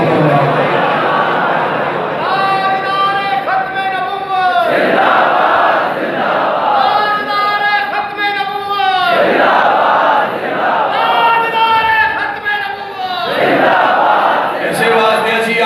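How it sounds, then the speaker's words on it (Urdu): A large gathering at a religious jalsa in Fateh Jang, Attock, chants Labbaik slogans in loud, rhythmic bursts of many voices, roughly three long surging calls with brief gaps and crowd murmur between them. "لبیک دے نعرے مارتا ہوئے ذرا زور دے"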